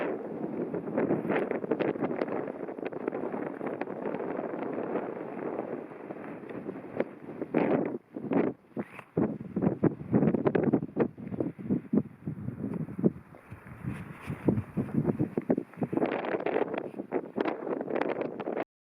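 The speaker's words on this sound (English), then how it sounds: "You can see it's still quite windy up here. It's flapping about a bit" Strong wind buffeting a camp shelter high on Dartmoor, a steady roaring gust noise with irregular flapping bursts of fabric, loud and close throughout with no speech.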